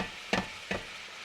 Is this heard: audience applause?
no